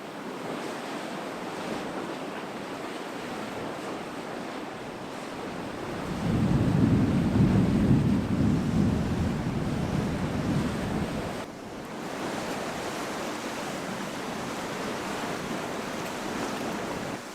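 Wind blowing steadily across a rocky Finnish coast at sunset, a continuous rushing roar with a stronger gust swelling midway, surf-like and close to the microphone, no voices.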